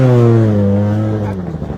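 A Honda S2000 rally car roars past close by on a special stage, its engine note loud and steady before dropping in pitch and fading as it moves away.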